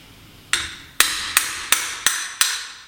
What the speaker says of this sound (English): So I'm actually going to hit the bike with a hammer.